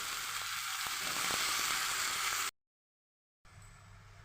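Eggplant frying with spices in a pan, a steady loud sizzle that stops abruptly and then resumes more faintly after a short silence.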